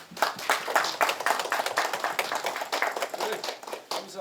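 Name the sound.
applause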